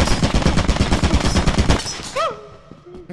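A turret in Lethal Company fires a rapid, steady stream of loud shots for about two seconds, then stops abruptly, and a short exclaiming voice follows.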